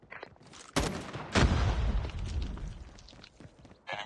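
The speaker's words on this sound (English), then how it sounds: "Enemy sentry gun has been destroyed." Sentry gun destroyed in the Call of Duty Mobile game, a sharp explosive burst followed by a second heavy boom and a rumbling, crackling tail lasting a couple of seconds.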